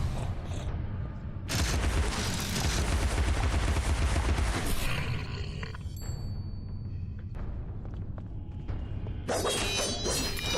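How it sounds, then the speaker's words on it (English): Weapon fire in Alice: Madness Returns on PS3 comes as dense rapid bursts of shots with shattering and whooshing effects. They start and stop several times over the stretch. "I want to shoot this thing again"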